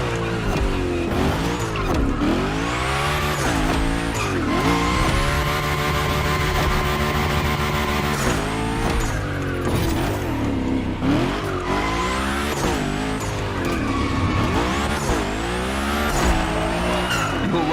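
The Hoonicorn sliding through a gymkhana course in The Crew Motorfest: a loud engine revs up and down in rising and falling sweeps while tires squeal almost continuously, close and with no talking.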